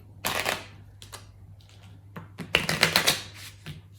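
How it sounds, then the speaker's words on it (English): Quick riffling bursts of cards being shuffled, a short flurry near the start and a louder run of crisp flicks toward the end, close by. "to shuffle the cards"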